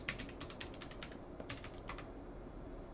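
A password is typed on a computer keyboard, a quick run of faint, close key clicks in two short bursts over a quiet background.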